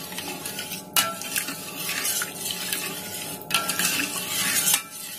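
A spoon stirring hot milk in a pan after vinegar is poured in for homemade mozzarella, a continuous soft swishing with a couple of sharp metallic clinks against the pot.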